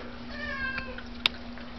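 A cat meows at an animal shelter, a single drawn-out call rising briefly and standing clear against a steady background hum, with a short sharp click near the end.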